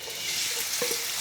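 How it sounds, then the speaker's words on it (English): Onions frying in hot oil with whole spices for an egg curry, a steady bright sizzle with a couple of soft stirring scrapes near the end, close and continuous. "now I'm going to add the onions in and fry them until they're golden brown in colour"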